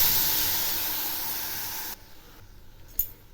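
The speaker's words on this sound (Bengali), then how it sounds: "এখন আমি এর মধ্যে দিচ্ছি ছোট 1 বাটি দুধ।" Milk hits a hot pan of fried semolina and coconut mixed with date jaggery, giving a loud, steady hiss that cuts off abruptly and leaves quieter stirring with one brief clatter.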